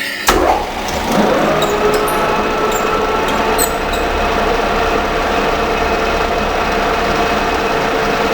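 Centre drill boring into metal on a machine, heard as a steady close mechanical hum with a sharp start near the beginning, then a continuous grinding whir with occasional light clicks.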